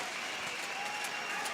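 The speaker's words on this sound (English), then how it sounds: "The crowd were on their feet again." Spectators applauding in an arena at a judo Grand Slam event, a continuous fairly faint patter of many hands clapping at a distance, with no clear talk over it.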